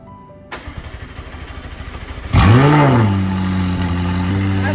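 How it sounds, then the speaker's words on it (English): A supercar cold start: a short rhythmic starter cranking, then the engine fires with a loud rising roar that sweeps up and drops back to a high, steady fast idle, close and powerful, with no talk. "we actually need a cold start"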